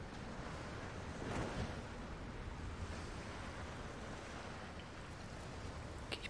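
A constant, hollow whoosh of wind from the Tomb Raider video game blows evenly throughout, with no voices present.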